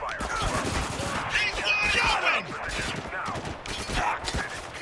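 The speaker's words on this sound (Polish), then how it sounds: "To tam jeszcze strzela." Bursts of rapid gunfire crackle through the video game Spec Ops: The Line, close and fairly loud, with overlapping shots and debris.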